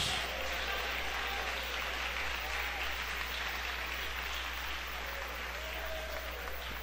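A church congregation claps steadily at a worship service, a dense, sustained wash of applause filling the space from start to finish with no pauses.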